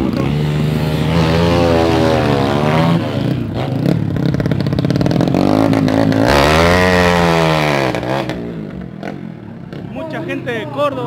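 Racing motorcycles at a ten-second-class drag event in Lavalle, Mendoza, with loud engines revving and rising in pitch through repeated accelerations, close by and continuous, with people talking underneath.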